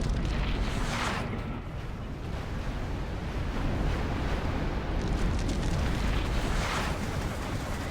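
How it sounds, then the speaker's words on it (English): Loud, sustained rumbling blast of a Scud missile strike in a real-time strategy game, a broad roar swelling and easing over several seconds with no talk. "Size firing another Scud."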